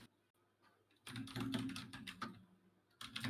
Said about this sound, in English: Someone is typing very loudly.